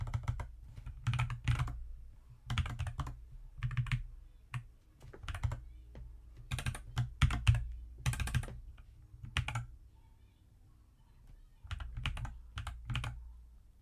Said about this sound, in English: Don't know why I can't press the right keys